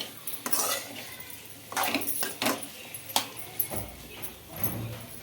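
Chicken pieces stirred with sauces in a frying pan, with close irregular scrapes and clinks of a spoon against the pan over a soft sizzling background.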